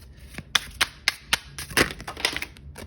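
Hobbit tarot cards being shuffled by hand, a run of crisp riffling snaps and flicks at an uneven rhythm, close and fairly quiet with no talking.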